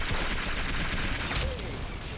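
Rapid gunfire in the Roblox shooter game Arsenal comes in quick overlapping bursts at a fairly low level, a sharp rattling volley with a brief tonal whoosh near the end.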